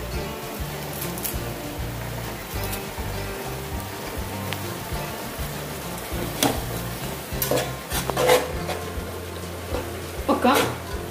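Chicken frying in a pan with coriander leaves, stirred now and then, gives a steady sizzle with scraping strokes; a few louder clatters come near the end, and someone talks over it at times.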